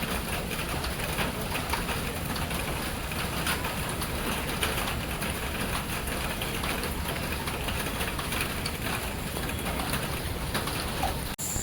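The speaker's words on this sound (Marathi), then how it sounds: "पाऊस काय थांबूचं नाव घेत नाही" Steady rain pouring outside in the Konkan monsoon near a waterfall, a dense continuous hiss with low rumble running unbroken throughout, fairly loud and with no voices.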